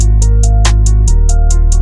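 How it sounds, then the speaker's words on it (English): A vocal sample with lowered timbre and automated panning sweeping from left toward right repeats in steady pulses over a sustained low drone, loud and close, with a brief brighter burst midway. "Creates this weird sort of vocal effect."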